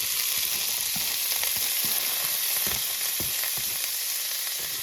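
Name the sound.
diced onions sizzling as added to pan with ham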